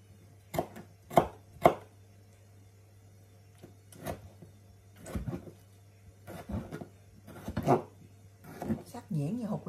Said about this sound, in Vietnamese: Xắt nhuyễn nhuyễn lên đây này.